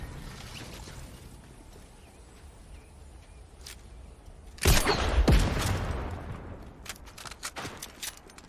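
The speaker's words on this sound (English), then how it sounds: "I don't know how I missed these boom bow shots on him" Explosive arrow shots from the boom bow in the Fortnite video game, heard as a loud burst of sharp blasts followed by a run of smaller cracks and pops over steady background game noise.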